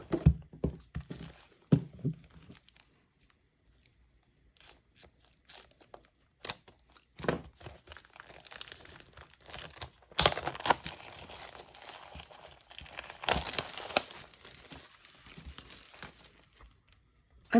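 Tissue paper crinkles and rustles as a papercraft kit is unpacked, with scattered crisp bursts and pauses early on, then longer, busier stretches of crumpling, close and fairly quiet.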